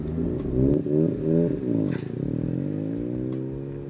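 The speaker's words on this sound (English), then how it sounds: "You constantly get to listen to that big Borg-Warner turbo spooling up and down" A Mazda RX-7 FD with a big Borg-Warner turbo accelerates up close, its rotary engine surging in pulses with rising and falling pitch as the turbo spools, then pulling hard in a long climbing note.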